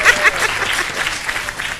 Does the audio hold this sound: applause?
yes